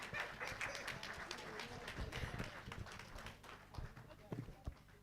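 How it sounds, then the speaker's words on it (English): An audience at a women engineers' lecture and inauguration event claps, a faint, uneven patter of hands that thins toward the end, heard under a voice speaking. "I think if you are clapping, you can clap for my chairman better."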